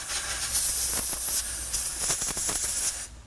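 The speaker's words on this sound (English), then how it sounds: "Now I'm going to clean off the tap a little bit with some compressed air." Compressed air blasting a thread tap clean in a workshop, a loud continuous hiss with a few sharper bursts, cutting off abruptly near the end.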